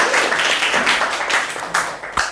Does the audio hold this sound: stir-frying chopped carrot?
no